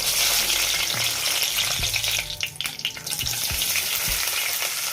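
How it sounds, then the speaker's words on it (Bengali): Whole garam masala spices sizzling and crackling in hot oil in a pan for a Bengali motor polao, a steady close frying hiss with a few soft stirring knocks and no voices. "এখন কিছু গরম মশলা তেলের মধ্যে দিয়ে খুব ভালোভাবে ভেজে নিচ্ছি"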